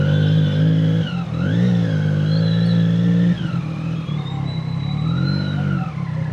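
A Triumph big bike in first gear revs hard as it climbs over a speed breaker, the engine note rising and falling in loud continuous surges with a brief dip midway.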